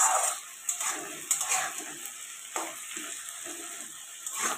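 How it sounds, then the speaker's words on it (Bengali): Taro and potato pieces fry in hot oil with a steady hiss, broken by a few sharp clinks and scrapes of a utensil against the pan close by. "কচু আর আলুটা কিন্তু লাল লাল করে ভাজা করে নিতে হবে।"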